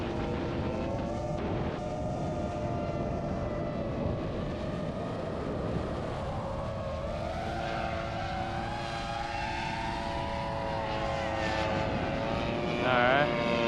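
A 78-inch RC Extra 260 model airplane with a 35cc gas engine drones steadily through an inverted pass over the runway, the engine pitch shifting as it moves, with a person talking at times.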